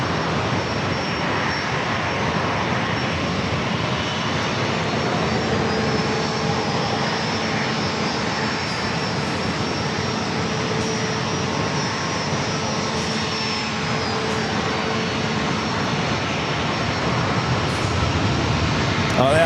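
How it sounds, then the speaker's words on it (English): A Southwest Boeing 737 passes directly overhead near San Diego airport, a broad steady jet roar with a faint high whine, sustained and loud for the whole stretch and swelling slightly at the end. "It's a Southwest 737 that flying directly above our heads."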